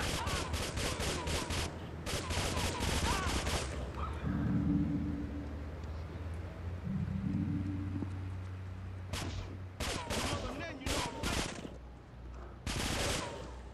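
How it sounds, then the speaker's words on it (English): Gunfire in the Grand Theft Auto III Definitive Edition video game: rapid bursts of automatic shots in several volleys, loud and close, with quieter game sounds in the gaps between volleys. "Listen to the way that gun sounds."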